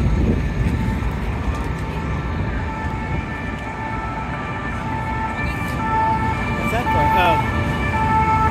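An emergency vehicle siren sounds in Paris traffic near the Arc de Triomphe, a steady wailing tone running through continuous street noise, moderately close across the whole stretch.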